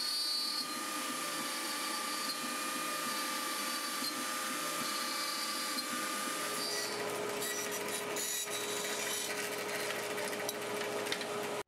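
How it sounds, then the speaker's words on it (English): A CNC machine cuts wooden grips for a prop, a continuous mechanical whine with steady tonal hum and motor noise that grows busier and rougher partway through, with no voices. "let's head over to that machine and cut out some wood"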